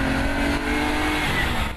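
A Dodge Charger's 3.6-liter Chrysler V6 engine holds a steady, fairly loud drone, a smooth continuous hum with no break and no voices over it.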